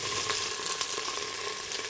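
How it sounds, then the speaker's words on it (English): Steady crackling sizzle of beef browning in hot oil in a pot for stew, continuous and close, with faint scraping stir sounds and no voices. "Continue to fry the beef until all sides are brown."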